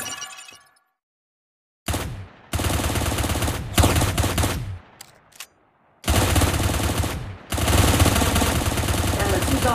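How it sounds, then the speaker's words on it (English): Automatic weapon fire in Cyber Hunter, loud rapid bursts broken by brief silent gaps, with a sharp short volley in the middle and longer sustained strings of shots before and after, alongside clinking, shattering impacts. "Along with manual fire, you can also use auto fire to help you in battle."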